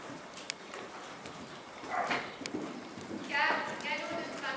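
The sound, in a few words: horse hooves trotting during dressage riding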